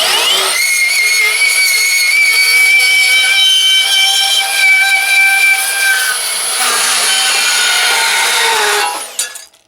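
A Milwaukee M18 FUEL 2729-22 deep cut band saw cuts through a hollow, four-inch-wide galvanized steel bumper, giving a steady, loud metallic whine with ringing tones that runs unbroken for about nine seconds and then winds down.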